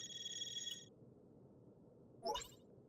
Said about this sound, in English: Everyone's iPhones are ringing all at once?